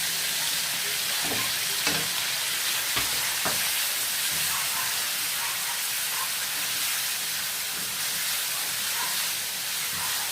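An egg omelette with plenty of tomatoes cooks in a pan, a loud, dense frying sizzle running throughout with occasional scraping and stirring knocks close by, and no talking.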